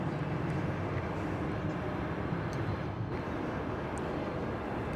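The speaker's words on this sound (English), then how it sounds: "the Kalitta Air Flight 745, a 747-400, is about to take off" A Kalitta Air Boeing 747-400 taking off at Dallas Fort Worth airport, heard from the far side of the field as a dense, steady low jet roar that stays fairly even throughout.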